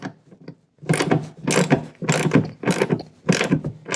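A ratchet mechanism on a leaf vacuum being assembled clicks as it catches, with a run of loud, close, rasping bursts coming in an uneven rhythm about every half second, and no voices.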